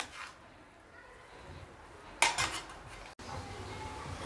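Grated carrots and flour are stirred in a pan over a low to medium flame for carrot halwa: a quiet hiss, then a brief burst of metallic spoon scraping and clatter against the pan.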